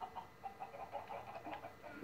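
Chickens in a Minecraft automatic cooked-chicken farm, giving a steady run of soft, repeated clucks over a low hum, with no talking.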